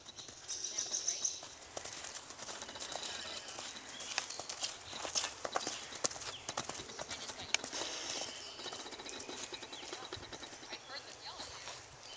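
A young horse walks with steady hoof clip-clops on a hard surface during a hacking ride, with a rider talking over the hoofbeats and a bird faintly audible early on.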